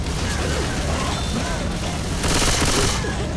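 Rapid submachine gun fire in the Left 4 Dead 2 video game on expert difficulty, dense continuous bursts with crashing impacts and game noise throughout, loud and close.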